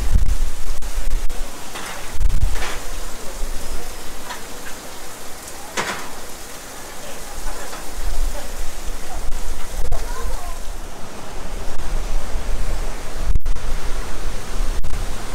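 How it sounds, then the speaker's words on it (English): Rainwater runoff pours off hillsides in a loud, steady broadband rush, with occasional louder splashes and no clear speech. "All this runoff from the rain coming off the hills."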